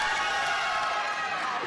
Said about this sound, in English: how do I get a cheering section like that?